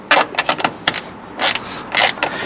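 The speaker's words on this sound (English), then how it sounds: "for these right here, you just need a 10 mil" Ratchet with a 10 mm socket loosening the nuts holding a Mustang's tail light, a quick run of close, crisp clicking bursts with short pauses between strokes, no talk.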